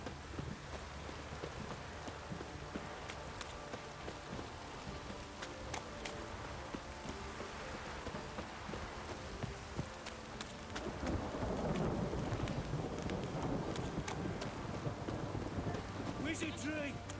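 Steady rain pours and patters on surfaces while thunder rumbles, swelling louder toward the end, in the video game The Witcher 3: The Wild Hunt; no one speaks.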